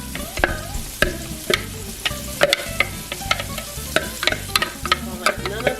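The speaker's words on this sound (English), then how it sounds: "Hear that sizzle? That's what you want to hear." Meat sauce ingredients sizzle steadily in a hot pan, with repeated sharp scraping and clanking strokes of a stirring utensil at an uneven rhythm, close and fairly loud with no voices.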